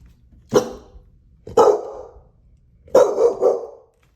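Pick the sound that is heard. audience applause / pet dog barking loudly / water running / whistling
pet dog barking loudly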